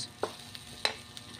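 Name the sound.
stirring leftover rice with egg in a pan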